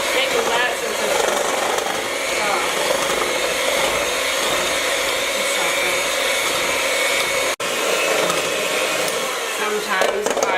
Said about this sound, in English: I'm going to go ahead and use an electric mixer.